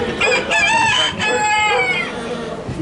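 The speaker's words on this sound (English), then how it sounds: "Oh, there's a rooster" A rooster crows loudly and close by in a series of long, wavering calls with clucking fowl around it, heard during a Disney World farm exhibit visit.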